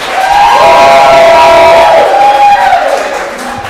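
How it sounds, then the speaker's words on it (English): An audience at a live storytelling stage show claps and cheers loudly as a performer walks up, with the cheering and clapping blending into one sustained crowd roar. "Please clap Amy all the way up to the stage."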